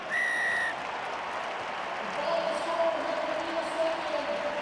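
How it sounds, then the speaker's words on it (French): Referee's final whistle at the Ireland versus Scotland rugby match sounds as one bright, sustained blast at the start, followed by a roaring stadium crowd and applause. "coup de sifflet final qui concluait les débats"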